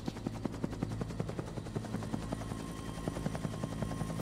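Rapid automatic gunfire bursts and a steady helicopter rotor drone from the video game Dino Crisis, repeated sharp shots over a continuous engine hum, with no talking.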